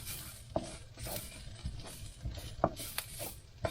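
Onions in a pan on a campervan stove being stirred with added ingredients: soft scraping and patting strokes at an uneven rhythm, with faint sizzling underneath and a few small sharp clinks, close and quiet.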